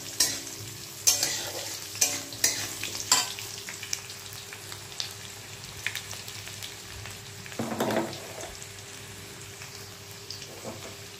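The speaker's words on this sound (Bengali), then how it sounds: "আলুটাকে একটু লাল করে ভেজে নিতে হবে, ভেজে তুলে রাখতে হবে।" Potatoes frying in a pan, with a steady soft sizzle and several sharp clatters of stirring at the start, a louder burst of sizzling midway, and quiet frying continuing underneath.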